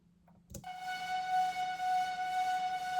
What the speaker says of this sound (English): And then I've got just this drone.